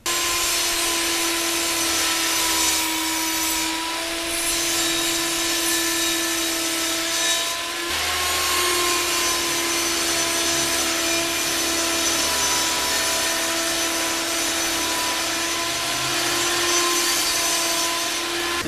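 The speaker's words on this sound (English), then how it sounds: "until it cuts the 3/4 inch groove for the back panel to be accepted into it" A power saw cuts a 3/4 inch groove into a wood panel for a tool cabinet back, a loud steady whine with grinding texture that briefly dips midway and then continues. No one speaks.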